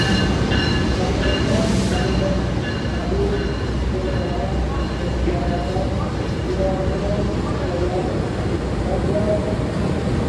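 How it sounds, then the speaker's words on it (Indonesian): A Sancaka passenger train from Yogyakarta to Gubeng pulls into a station: a loud, continuous rolling rumble of wheels and carriages runs steadily throughout, with faint voices in the background. "Yang baru masuk adalah kereta api Sancaka teman-teman, dari Jogja tujuan Gubeng."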